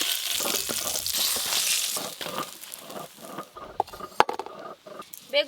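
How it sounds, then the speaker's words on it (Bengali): Eggplant fries in mustard oil in a pan, a bright hissing sizzle that is strong at first and then turns into intermittent crackles and a few clinks of a utensil against the pan. "একদম নরম বেগুন তো, একবার চাপা দিতেই ভাজা হয়ে গেছে।"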